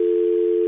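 A telephone line connecting on a call, heard as one steady, unbroken tone held for under a second, clear and alone with no voices.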